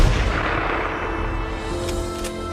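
A deep, booming sniper-rifle shot with a heavy low-end wash sustains throughout, with a couple of faint sharp ticks near the end.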